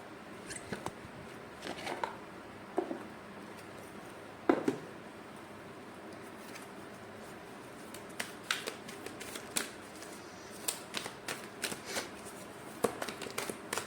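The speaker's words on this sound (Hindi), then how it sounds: "रीडिंग स्टार्ट करने से पहले मैं एक ओरेकल कार्ड आपके लिए पुल करना चाहूँगी" Oracle cards being shuffled and pulled for a reading, with soft papery riffles and scattered sharp flicks and taps, quiet and close, with no talk.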